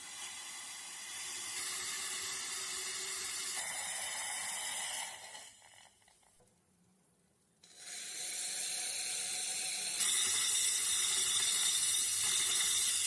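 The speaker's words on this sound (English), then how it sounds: "A gush of water and saturated steam is released, which will collect in the steel container below." Water and saturated steam gush from the vacuum release valve of a sterilization autoclave into a steel container, a loud steady hiss and rush that drops away briefly midway, then surges back stronger.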